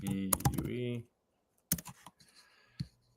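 Typing on a computer keyboard: a brief burst of close key clicks after talking stops, then a few scattered taps with silence between.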